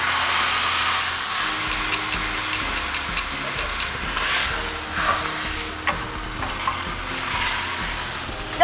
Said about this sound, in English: So we're gonna get this in the pan, fat side down, and let it sear on one side